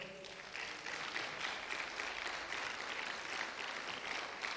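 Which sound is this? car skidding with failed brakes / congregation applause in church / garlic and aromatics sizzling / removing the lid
congregation applause in church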